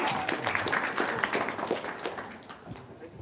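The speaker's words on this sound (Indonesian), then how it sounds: "Ya, tepuk tangan dong." An audience applauding at a religious talk, a dense burst of clapping that fades out over a few seconds.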